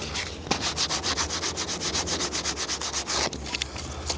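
Sandpaper rubbed by hand over a G-body car's rubber weatherstrip makes steady, rhythmic back-and-forth scratching strokes, close and fairly loud, with no talking.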